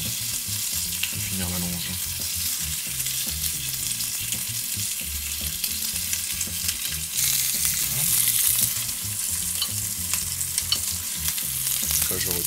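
Ibaïona pork belly and loin searing in a pan, a steady dense sizzle that holds for the whole stretch and swells briefly midway, with a voice speaking quietly over it.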